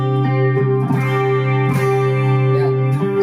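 Electric guitar played through the chorus effect of a Mvave Tank G pedal, sustained shimmering chords with repeated strums at a steady pace, loud and close with no talking.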